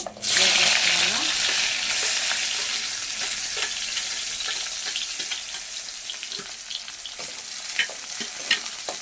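Onions frying with mustard seeds in a pan, a steady broad sizzle that flares loud at the start then holds even, with occasional stirring clicks and scrapes; no voices.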